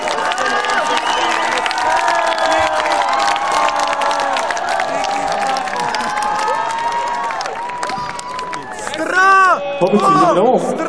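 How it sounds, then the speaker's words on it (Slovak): A crowd at a live DJ and MC show cheers and claps loudly and continuously, a dense wash of applause and shouts that thins briefly before swelling again near the end. "Zatleskajte si."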